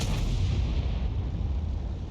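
Tank cannon in the World of Tanks video game, one heavy booming shot opening loud and close, then a rumbling tail that slowly fades over about two seconds, with no talking.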